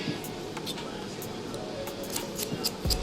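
Scissors cutting hair during a modern mullet haircut, a series of quick crisp snips close by over a steady background hiss.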